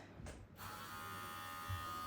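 Electric dog grooming clippers buzz with a steady, even hum throughout, fairly quiet and continuous, with a brief low bump near the end.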